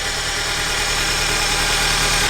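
Rotary engine of a Datsun with a fluid leak and worn motor mounts, idling in the engine bay: a loud, close, steady running drone with a fine rhythmic pulse and no talk.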